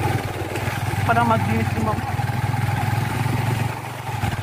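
A motorcycle engine idles with a steady chugging rumble close by on a riverside at Ilaya river in Rodriguez, Rizal, while a person talks over it.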